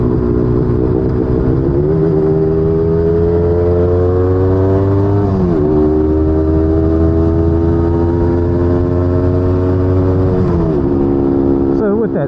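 A small two-stroke Yamaha DT250 motorcycle engine buzzes loudly nearby, rising and falling in pitch as it revs through gears.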